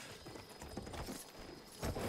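Horse galloping in the Battlefield 1 video game, a faint, busy rush of clattering hoof beats mixed with game noise, with a louder burst near the end.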